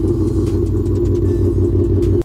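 A Ford GT500 prototype with a twin-turbo modular V8 runs after a cold start, producing a loud, close, steady low rumble that cuts off abruptly at the end.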